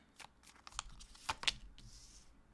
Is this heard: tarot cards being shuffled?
yes